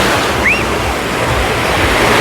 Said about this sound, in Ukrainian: Море трішечки хвилюється